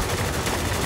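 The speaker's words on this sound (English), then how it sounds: "Hurry, we're taking heavy fire." Dense burst of gunfire in the video game Spec Ops: The Line, a loud, continuous rattle of shots packed close together and filling the whole moment.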